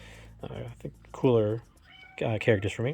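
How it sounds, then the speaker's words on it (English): A pet cat meows a few times, one long clear meow standing out, while a person speaks nearby over and between the calls. "that's my cat."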